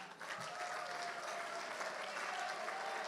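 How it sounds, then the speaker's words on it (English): An awards-evening audience applauds and cheers in a hall, a dense sustained wash of clapping that stays steady throughout. "Whoa, Joy, you got a cheering club out there."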